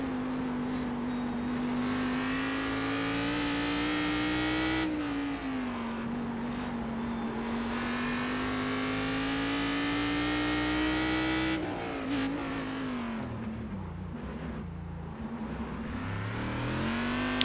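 Race car engine in the iRacing sim, a steady loud drone that holds pitch, swells and dips slightly with throttle changes, then falls and rises again toward the end; nobody speaks.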